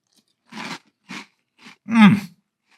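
Crunchy bites and chewing of Cap'n Crunch Sea Berry cereal eaten with milk, four separate crunches close to the ear, the last one loudest and longest, with quiet gaps between.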